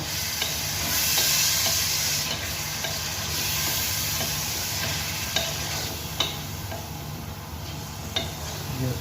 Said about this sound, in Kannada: ಲಿವರ್ ಸೇರಿಸಿ ಚೆನ್ನಾಗಿ ಫ್ರೈ ಮಾಡ್ಕೋಬೇಕು